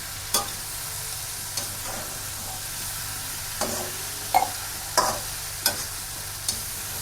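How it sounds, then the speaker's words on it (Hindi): Spices for aloo gobi being stirred in a pan, with soft scraping strokes recurring every second or so over a low, steady background hum and faint frying. "इनको हम अच्छी तरीके से मिक्स कर लेते हैं। इनको हम तब तक चलाते हैं"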